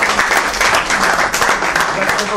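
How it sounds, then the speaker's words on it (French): A crowd at a tribute to a writer applauds steadily, dense clapping filling the whole moment at a fairly loud level, with voices mixed in underneath. "là je vous demande d'applaudir parce que c'est pour le grand écrivain"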